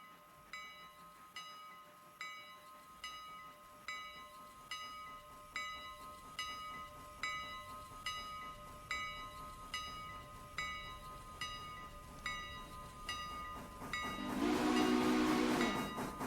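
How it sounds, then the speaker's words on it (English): Passenger train shunting on a heritage railroad, with a regular rhythmic chuffing beat carrying over a faint steady hiss, ending in a louder burst of steam near the close. "This was the passenger train shunting to get ready to take her last run back up to Bryson for the day."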